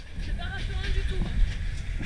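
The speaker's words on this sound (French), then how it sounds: "Le train il fait ça." A passenger train runs along the rails in Myanmar, a steady low rumble and rattle of the carriage close by, with a voice talking over it.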